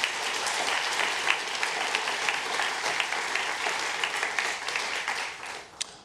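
Sustained audience applause at a dedication ceremony for a new public policy building, dense steady clapping from a large crowd that tapers off near the end.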